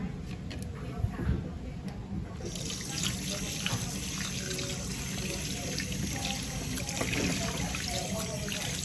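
Running water from a tap or hose washes a motorbike, a steady close spray and splash with no break, under someone talking at times.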